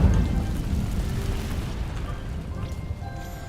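Incendio fire spell in Hogwarts Legacy setting dry vines ablaze, a deep rumbling whoosh with crackling burn that starts loud and sustains steadily for a few seconds.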